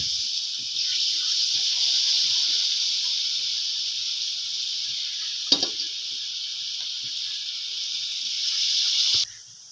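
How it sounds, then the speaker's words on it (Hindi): Pakoras frying in hot ghee give off a steady, bright sizzle that holds at an even level, with a brief clatter midway and a sudden drop near the end. "अब घी गर्म हो गया तो इसको पकौड़े बनाते हैं"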